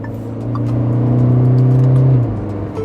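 A Tata Curvv diesel with a dual-clutch transmission revs up steadily as its paddle shifters change gear: a close, loud engine drone climbs in pitch and then drops off at the shift, with no voices.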